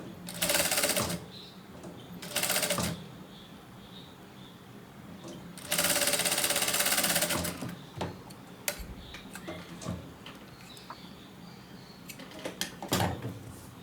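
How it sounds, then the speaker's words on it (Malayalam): A sewing machine stitches a quarter-inch folded hem in bursts, three loud rapid whirring runs of needle chatter separated by quieter pauses filled with light clicks and handling taps. "ആ ഭാഗം 1/4 ഇഞ്ച് ഫോൾഡ് ചെയ്ത് സ്റ്റിച്ച് ചെയ്യാം"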